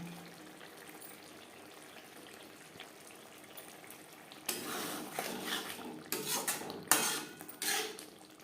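Fish curry of bam or pakal eel being stirred in a pan on a gas stove: faint scraping for several seconds, then louder clattering spoon-on-pan stirring with bursts of metallic scrapes near the end.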